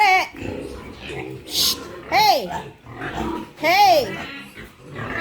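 Pig sow that has just given birth to fourteen piglets, grunting and squealing in a few rising calls close by, with a person talking over the animal sounds.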